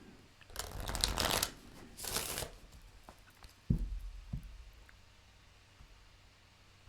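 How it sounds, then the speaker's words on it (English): Tarot cards riffled and shuffled in two quick bursts, close and crisp, followed by a few soft taps as the deck is squared; no talking. "One more shuffle."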